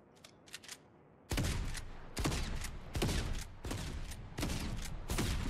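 Shotgun blasts in Fortnite gameplay: after a few faint taps, five loud, sharp reports come at roughly even intervals under a second apart, each with a short booming tail, close and dominant, with no talk.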